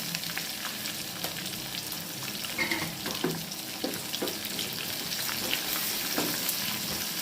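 Curry leaves and asafoetida sautéing in oil in a pan with crushed dal, a steady close sizzle and crackle with a few scraping stirs, no voices.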